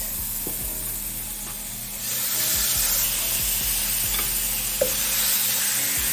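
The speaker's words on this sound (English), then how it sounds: "I'm going to place our meat in the pot." Curried oxtail meat hisses and sizzles as it goes into a hot pot, a loud steady frying crackle that swells partway through, with light scraping stirs.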